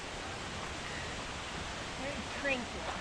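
Ried Falls waterfall near Skagway, a steady broadband rush of falling water heard up close, constant and even throughout with no voices.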